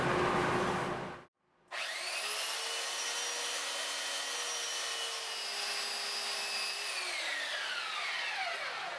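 A power tool bites into the wooden legs of a rustic live-edge end table to level them, starting with a rough grinding burst, then a brief pause, then a long steady whine that winds down at the end.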